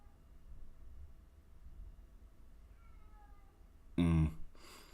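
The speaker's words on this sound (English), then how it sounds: "I don't know whose cat is fucking crying right now." A cat cries with one loud, drawn-out meow that breaks out suddenly near the end of a quiet stretch of room noise, followed by a fainter trailing call.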